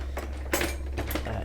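Metal knife and cutlery clinking as a knife is pulled from a kitchen drawer, a few brief bright rattles and clinks close by over a low background hum.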